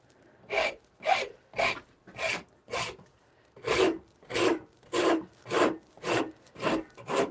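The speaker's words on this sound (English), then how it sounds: "I gotta say, this rasp, it really does impress me." A hand rasp files a wooden shillelagh stick in a workshop, making eleven evenly spaced, loud scraping strokes with brief pauses between them, close up and without talk.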